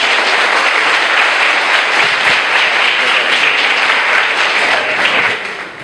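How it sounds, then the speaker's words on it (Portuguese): A church congregation at a conference service applauds loudly and continuously, dense clapping filling the room for several seconds before it begins to fade at the end. "A salva de palmas para Jesus"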